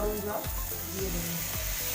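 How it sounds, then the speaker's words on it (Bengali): Hot water goes into a pot of sizzling vegetarian khichuri made with gobindobhog rice and spices, bringing a loud, dense hiss and bubbling that holds steady for the whole moment. "গরম জল দিয়ে দেবো।"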